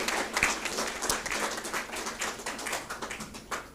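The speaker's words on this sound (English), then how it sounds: "I would like to have, Mr. Veer for a huge round of applause for him" Applause from a conference audience at a university HR conclave, with scattered individual claps that stay fairly sparse and light rather than a dense roar, carrying on steadily for a few seconds.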